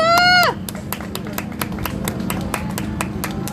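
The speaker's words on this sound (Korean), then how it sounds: "박수!" Clapping from a crowd at an outdoor memorial rally for a deceased public official, starting right after a shouted voice and continuing as a steady, moderately loud patter of scattered hands.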